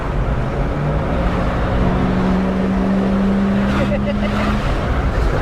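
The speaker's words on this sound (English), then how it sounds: "let me lower your window so you can hear the distinctive exhaust note" The exhaust of a 1984 Dodge Ramcharger rumbles steadily and close, a low continuous drone that holds for several seconds, with faint voices underneath.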